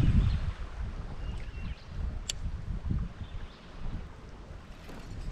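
Strong wind gusts across open water while kayak fishing, producing a rough, continuous rumble and buffeting on the microphone, loud and close, with no talking.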